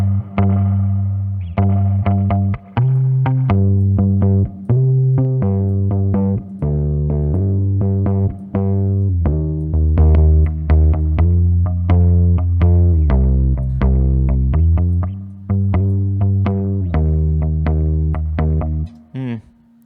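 Electric bass played through the combo spring reverb setting of an EBX effects pedal: a steady run of plucked low notes, each with a splashy, ringing reverb tail, loud and close with no talking.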